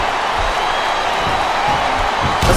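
A loud arena crowd roars and cheers continuously in WWE SmackDown vs Raw 2007, a dense wash of noise that swells briefly at the very end.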